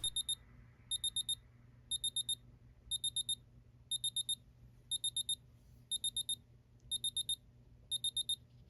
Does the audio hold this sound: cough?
no